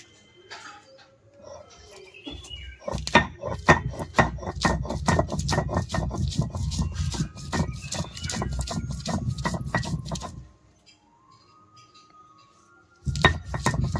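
Karonda berries being ground by hand on a stone grinding slab for chutney, a rapid run of rough scraping and knocking strokes for several seconds, a pause, then the grinding resuming near the end.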